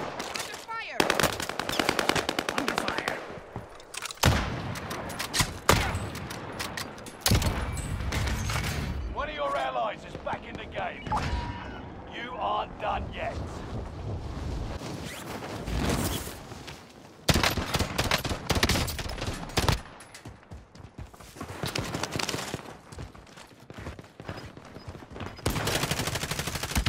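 Sustained automatic gunfire and rattling bursts fill a Call of Duty: Modern Warfare match, loud and nearly continuous, mixed with in-game voices shouting over the shooting.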